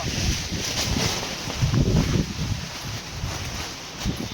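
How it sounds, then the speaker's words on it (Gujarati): Strong wind gusts blowing through a village during light monsoon rain, a steady rough roar with rumbling buffets on the microphone that swell and ease throughout. "પવન પણ બહુ ઉડે છે"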